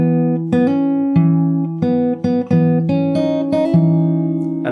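Slow guitar part pairing a bass note with pull-offs on the treble strings for a remixed freestyle piece, heard as clear plucked notes one after another in a steady, unhurried rhythm, close and alone.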